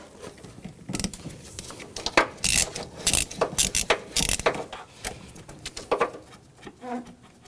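A ratchet with a 13mm socket turns a nut off on a 2006-2010 Hummer H3 3.7L during AC compressor hose work, producing bursts of fast, close clicking with short pauses.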